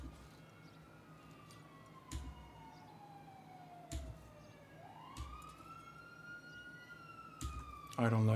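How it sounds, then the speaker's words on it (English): A police siren wails in a video game during a car theft, its tone sliding steadily down and then back up at moderate distance. Sharp clicks and knocks break in at intervals, and a louder burst of noise ends it. "I don't like hearing sirens so close when I'm hot wiring."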